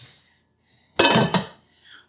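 Ceramic nonstick USELUCK Pix pans are handled, giving a sharp burst of clattering cookware knocks and clinks near the mic, brief and loud, with quieter rustling before and after.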